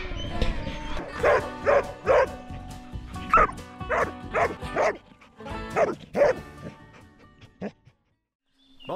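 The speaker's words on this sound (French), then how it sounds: "Du calme pour couver quand les chiens se seront tus" Several dogs bark, yip and whimper near a farmyard henhouse, short bursts in an uneven series, close and loud, fading to silence at the end.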